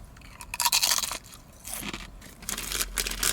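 Loud, close crunching of crisp kettle-cooked chips being chewed, several bursts of crackly bites in quick succession with no talking.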